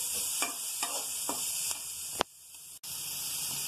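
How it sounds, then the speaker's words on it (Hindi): Green chillies frying in a pan for chowmein-style Maggi noodles, a steady close sizzle with a few soft stirring scrapes and one sharp clack near the end, no talking. "अब इसके अंदर हम थोड़ी सी हरी मिर्च ऐड करेंगे। और इसको भी अच्छे से फ्राई कर लेंगे।"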